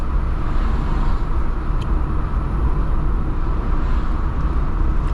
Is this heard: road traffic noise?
yes